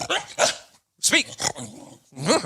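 Teddy, a pet dog, lets out a few short close barks and vocal yips in a quiet indoor room, with a brief gap between bursts and a single word spoken once.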